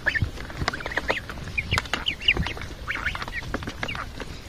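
Young goslings on a village farm give rapid, close peeping and chattering calls, overlapping in bursts amid shuffling and light knocks.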